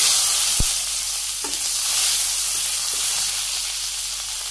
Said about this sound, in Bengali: কড়াইতে তেল আছে, এতটুকুতে যথেষ্ট, যদি লাগে পরে আবার দিয়ে দেওয়া যাবো। তো জিরে দিয়ে দিলাম ফোড়নে